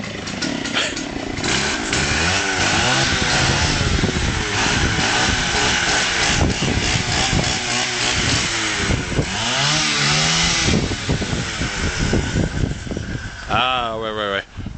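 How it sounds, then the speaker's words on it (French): A small two-stroke brush cutter engine, a Stihl FS550 or Echo CLS 5800, sputters to life cold and runs loudly with a buzzing, revving drone, while a person talks over it. "Ça c'est du bruit de moteur."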